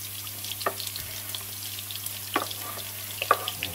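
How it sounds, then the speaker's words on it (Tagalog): Onion sizzling in a hot frying pan, a steady close crackle with scattered sharp pops and spits over a low constant hiss, with no talking. "lagay na natin yung ating onion"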